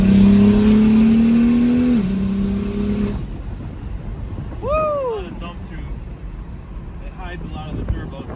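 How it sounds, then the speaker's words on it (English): BMW F82 with a SpeedTech 6266PT top-mount single turbo revving loudly and close, a held rev dropping away into turbo whoosh and flutter as it falls, followed by quieter blips, with some talk over it. "A lot of the turbo sound, which is okay on this kit."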